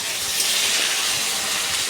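Potatoes hit hot oil seasoned with five-spice seeds, producing a loud, steady, close sizzling hiss with no pauses and no talking.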